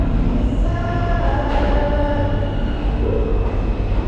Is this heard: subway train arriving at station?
yes